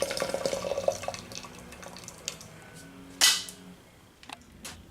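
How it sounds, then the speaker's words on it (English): Hot water poured from a tea kettle splashes and trickles into a container of steeping tea, with clinks and a sharp gush midway, then drips and small taps trailing off nearby. "I started another round of the tea kettle here. I'm going to dump this water in."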